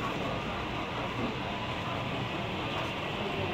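Model trains at a train show in North Myrtle Beach, South Carolina, including CSX and Norfolk Southern locomotives, give a steady, even rumble of rolling wheels throughout, with a constant hall noise behind it.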